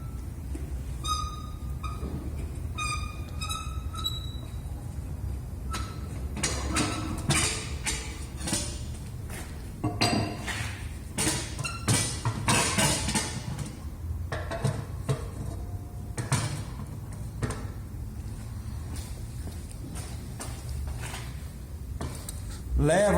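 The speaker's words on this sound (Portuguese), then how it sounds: "Retiro as minhas peneiras." Metal sieves are lifted out of a laboratory sieve shaker during an aggregate grading test, with scraping and clanking metal knocks and rattles in irregular bursts, close by, after a few brief electronic beeps.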